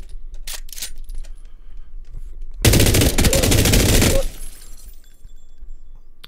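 An M249 LMG (the SAW) in PUBG on Vikendi lets off one loud, rapid burst lasting about a second and a half, with quieter clicks and game sounds before and after.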